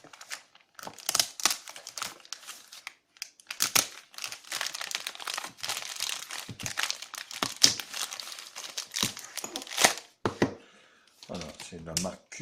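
Packaging for a Cubot X16S smartphone crinkles and rustles during unboxing, with irregular bursts of crackling plastic and paper handling close up, some louder scrunches among quieter shuffling.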